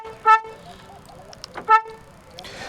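A 2025 Hyundai i20 Magna sounds two short, loud horn toots as its lock confirmation, evenly spaced about a second and a half apart, with quiet handling noise between and no talk.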